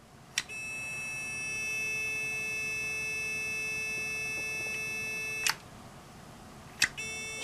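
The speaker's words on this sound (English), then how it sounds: "having the buzzer a little quieter than I would have preferred is okay" A Titan II missile silo blast door control panel buzzer sounds as a steady, moderately quiet tone lasting several seconds, broken by a few sharp clicks.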